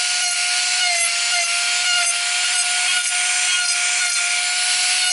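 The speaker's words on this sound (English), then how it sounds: "So I'm going to use my drill." An electric nail drill grinds steadily at a black nail polish coating, giving a continuous high whine with a strong fixed tone and a rasping, buzzing edge that stays loud and unbroken throughout, with no talking.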